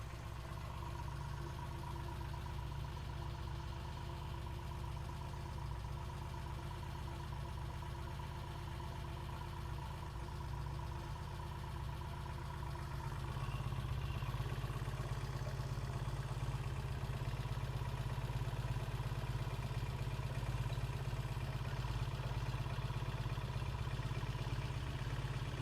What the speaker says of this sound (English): Yeah, the motorcycle's running.